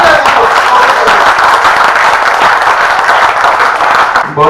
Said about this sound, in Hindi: एक बार हाथ उठाकर तालियां बजा दीजिए